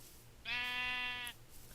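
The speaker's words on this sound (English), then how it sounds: "Oh, sheep." A single Minecraft sheep bleat, a clean buzzy tone lasting under a second, fairly loud against a quiet game background.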